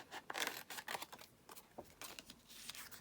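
Scissors cut a small paper journal card down in a quick run of soft, close snips and rustles, quiet and irregular, with no voices.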